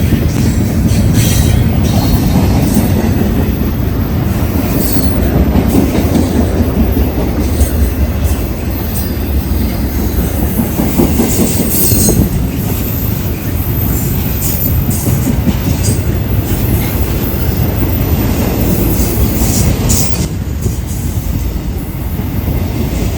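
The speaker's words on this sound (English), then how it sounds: "modern freight continues to roll through this historic junction" A modern freight train rolls through a historic junction on the former Boston & Albany line in New England, a loud, continuous rumble of wheels and cars with clattering rail joints and occasional metallic squeals, close by throughout.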